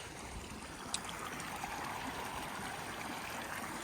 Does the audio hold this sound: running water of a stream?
yes